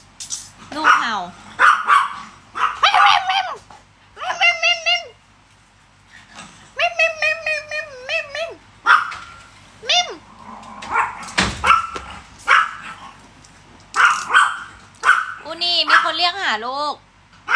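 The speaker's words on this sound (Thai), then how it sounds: "เห่าพี่ส่งอาหาร" A dog barks and yips repeatedly at a food delivery person, close and loud in short bursts with brief whimpers, while people talk over and between the barks.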